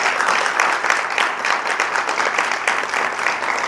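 Sustained applause from an audience at a large women leaders' gathering, steady dense clapping filling the whole stretch without a break.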